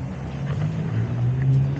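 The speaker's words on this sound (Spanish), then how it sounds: "La moto anda bien a 90 kilómetros." Honda Invicta motorcycle cruising on the road at about 90 km/h, a steady engine drone with a low hum and wind noise, held at an even, fairly close level.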